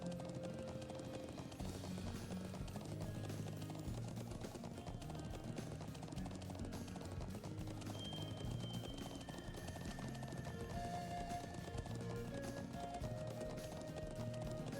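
Horse hooves clip-clop steadily in the video game Trails of Cold Steel, a fast galloping rhythm throughout over game music, fairly faint and without speech.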